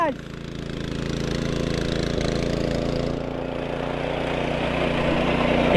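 A farm tractor's engine runs steadily on a Konkan farm. It gives a continuous low, throbbing drone with an even rumble that stays loud and constant throughout.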